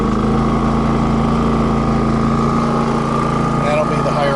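A Champion RV generator runs with eco mode switched off at higher RPM, giving a loud, constant engine drone with a steady hum and no change in pace.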